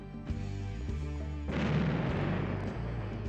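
Artillery fire in Warhammer Epic 40k: Final Liberation, a strategy game battle: a sharp blast near the start over a low droning hum, then a second heavier boom that rumbles on under the steady din.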